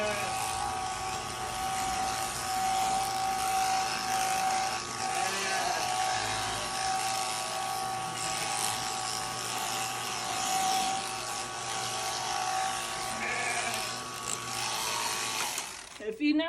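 Electric shears buzz steadily through a sheep's fleece during long shearing strokes, a loud close continuous motor drone that cuts off near the end, with someone talking over it.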